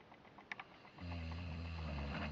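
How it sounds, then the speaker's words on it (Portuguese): A man snores in a quiet room; after a couple of soft clicks, a loud, steady, low rasping snore begins and carries on to the end. "continua roncando"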